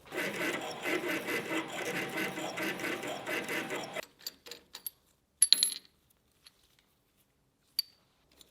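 A drill bores a centre hole in a morning star mace head held in a vise, a steady whirring grind for about four seconds, then scattered small clicks and metallic taps as it stops.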